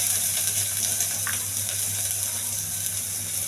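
Onion frying in hot oil for a dal tempering gives a continuous, even sizzling hiss, close and moderately loud, with no voices over it.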